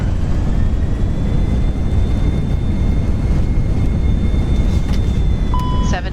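Airliner jet engines spool up into reverse thrust during the landing rollout, giving a steady, loud broadband roar with a faint whine; a brief beep sounds near the end.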